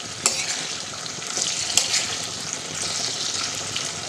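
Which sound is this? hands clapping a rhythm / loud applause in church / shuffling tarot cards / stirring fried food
stirring fried food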